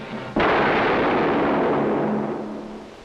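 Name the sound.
gunshot fired in a 1962 drama film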